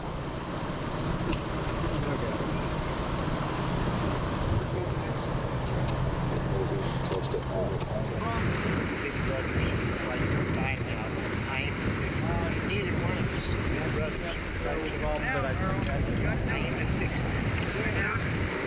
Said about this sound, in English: Let's go with these nice wind here, and we will go in close.